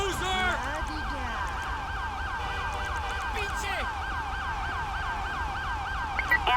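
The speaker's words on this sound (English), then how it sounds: "Ambulance." A wailing ambulance siren in a video game, Grand Theft Auto V, sweeps up and down continuously in steady cycles, loud and sustained over a low rumble.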